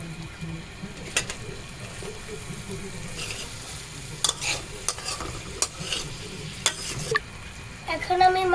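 Tomatoes are added to a frying pan and stirred with ginger-garlic paste for soup noodles, giving a low steady sizzle with scattered sharp scraping and clinking hits from the spoon against the pan.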